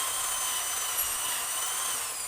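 A power drill bores holes through a bamboo cup, a steady high whine sustained throughout without pause, close and fairly loud, with no voices.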